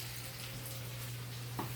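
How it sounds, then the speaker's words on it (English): Steady sizzling of hot dogs frying in a cast iron pan, a continuous crackling hiss with a low hum beneath and a brief clink near the end. "And they start frying up"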